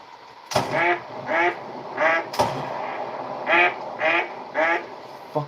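Ducks quacking near a flagpole during a duck hunt, several loud, close quacks in a steady rhythm with two sharp clicks among them.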